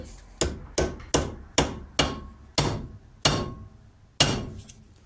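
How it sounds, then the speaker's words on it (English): Sharp metallic copper hammer blows, eight strikes at a steady, slightly uneven pace, each ringing briefly before the next, close and loud, while fitting a handbrake part on a Simca Plein Ciel. "So use a copper hammer."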